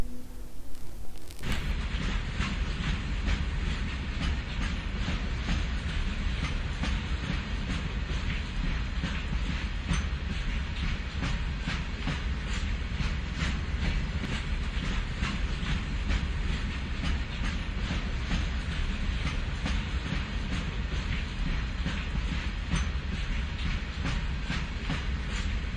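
Train rolling on rails between Jand and Attock in Pakistan, a loud, continuous rumble with dense rhythmic clicking of wheels over track joints that runs throughout after a short quiet opening.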